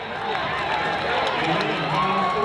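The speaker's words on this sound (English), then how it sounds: "Listen to this crowd." Dense, steady roar of a high school football crowd at a Highlands Golden Rams home game against East Allegheny, cheering continuously and fairly close, with a constant wash of voices that neither builds nor drops.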